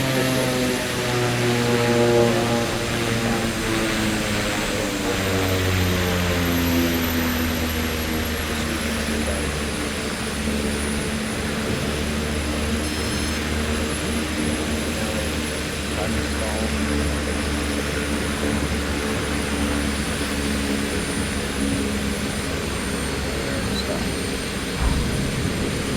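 A STOL propeller plane in Microsoft Flight Simulator 2024 drones steadily through a takeoff roll and climb, its engine tone rising and holding loud and close throughout, with a faint voice underneath.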